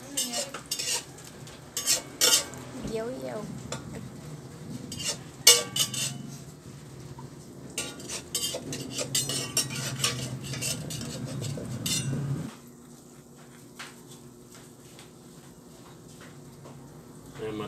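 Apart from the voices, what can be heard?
pot boiling while stirring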